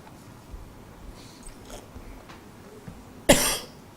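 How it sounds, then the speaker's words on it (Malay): One short, loud cough near the end of a mostly quiet stretch in a religious lecture setting, with faint background rustle and no speech. "batuk sikit."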